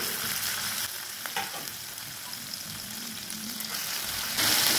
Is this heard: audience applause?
no